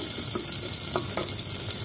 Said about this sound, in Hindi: अब डालते हैं लगभग एक छोटा चम्मच हल्दी हल्दी को भी हल्का सा भून लेंगे